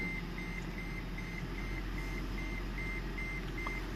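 A short electronic beep repeats at a steady rhythm, about twice a second, in a Toyota Prius 30 with brake problems, over a constant low engine-like rumble.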